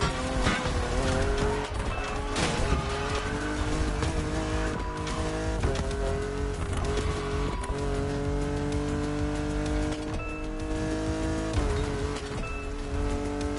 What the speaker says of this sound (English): From a very famous German brand, the BMW Z4 M40i.